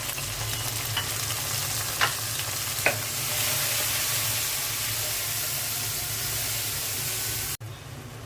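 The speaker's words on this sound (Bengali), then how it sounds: "মশলাটা কষানো হয়ে গেছে" Spices fried in a pan with coriander powder, cumin powder, salt and a little water for chicken curry, giving a steady, close sizzle with a couple of stirring scrapes and no talk.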